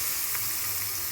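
Hot cumin, mustard seed and turmeric tempering poured into chutney, a soft steady sizzling hiss with a low hum beneath, faint and continuous over a short moment.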